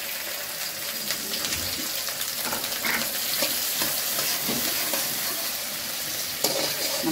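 Chopped onion goes into hot oil with whole garam masala and fries in a steady, close sizzle, with light stirring scrapes and a few brief clinks over the continuous hiss.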